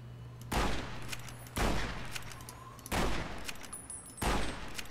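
Gunshots in Fallout: New Vegas, four loud booming shots about a second apart, each with a heavy low thump and reverberant tail, no talk.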